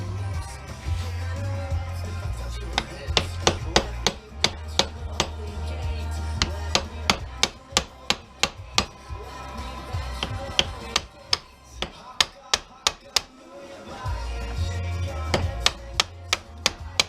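Metal part being hammered out of a fluorescent light fixture during scrapping, using a vise as a spacer: a run of sharp, loud metallic strikes in uneven rhythm, close up, over a low background rumble.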